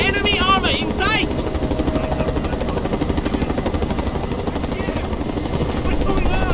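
Helicopter in the Mercenaries 2 video game: a steady rotor thrum with rapid rhythmic chop continues under in-game voices shouting, with brief sharper sounds near the start.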